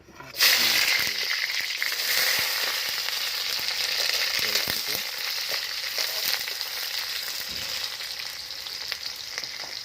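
Onions fry in hot oil and hiss loudly and continuously right from the start, with scattered crackles and occasional stirring scrapes throughout. No talking.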